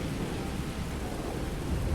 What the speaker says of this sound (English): might be a storm coming.